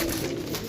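Pigeons coo in a brief, close burst, a soft low throaty murmur from kept birds with no talking over it.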